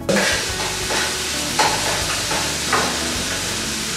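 Chopped onion and garlic fry in hot olive oil with a loud, steady sizzle and hiss, close up, while occasional stirring adds brief swells; no one speaks.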